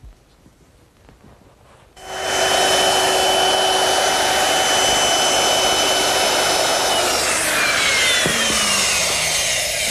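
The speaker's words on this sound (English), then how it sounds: "I'm using a 1/2-inch radius round over bit just to ease the edges of the shelf." A woodworking router fitted with a half-inch round-over bit starts abruptly and runs at a loud, steady whine while easing the edges of a shelf, its pitch dipping slightly near the end.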